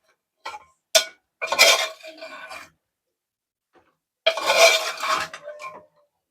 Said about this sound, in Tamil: இப்போ மசாலா போட்டு நல்லா கிண்டி வச்சுக்கலாம்.